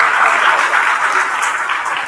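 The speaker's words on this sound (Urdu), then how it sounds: "پہلے ایک دوسرے کے لیے تالیاں بجانا بتاتا ہوں کیسے" A church congregation at a Sunday service claps for one another, a loud, dense wash of many hands clapping together that stays steady across the clip without talk.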